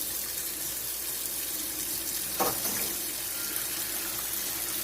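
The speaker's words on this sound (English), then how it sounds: "Alright, so the first thing is hot water coming through there." Hot water running from a kitchen sink tap, a steady hiss of flow with a brief louder splash partway through, continuous and fairly close with no talking.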